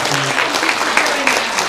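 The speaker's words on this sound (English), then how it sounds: "round of applause." Applause rings out at the close of a festival Q&A session: a short, full burst of crowd clapping, steady throughout, with faint voices mixed in.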